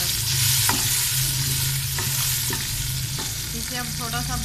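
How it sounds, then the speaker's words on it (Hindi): Onions with ginger-garlic paste and tomatoes frying in a pan for a potato and carrot curry, a steady loud sizzle broken by repeated scraping stirs of the spoon, with no talking. "इसे अब थोड़ा सा भून लेंगे हम"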